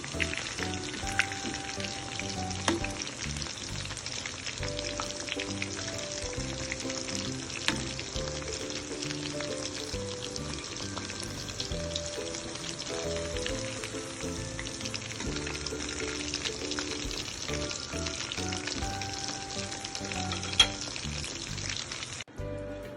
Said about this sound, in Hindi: हमारी चिकन फ्राई हो गई है। अब हम इसे निकालेंगे।